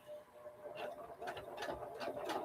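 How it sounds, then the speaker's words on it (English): A treadle sewing machine runs quietly at home, giving a soft, steady mechanical whir with faint rhythmic ticking. It stays low in level, and no one speaks. "over there is my my treadle sewing machine."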